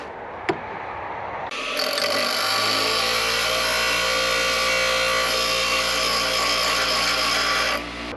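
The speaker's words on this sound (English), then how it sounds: "I'm gonna go inside and grind that down" A power grinder works down a steering wheel spinner indoors, spinning up after a sharp tap and holding a steady, loud, high rasping whine for about six seconds before cutting off.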